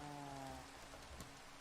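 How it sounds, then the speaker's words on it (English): Video game rain hisses as a faint, steady wash of falling drops, with a soft low musical tone fading out early and a small tap near the end, no voices. "Make it stop raining."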